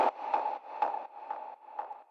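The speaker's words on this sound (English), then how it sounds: "And we have this eagle synth, I call it. It sounds like this." Eagle synth lead from a melodic techno track, a distorted, nasal tone playing five evenly spaced pulsing notes of similar pitch, clean and alone.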